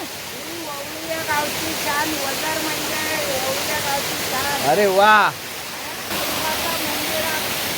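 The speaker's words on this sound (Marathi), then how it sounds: "ओझर हा धबधबा आमचा" Ozar waterfall in Sindhudurg roars steadily in the background while people talk and exclaim over it, one voice rising briefly louder near the middle.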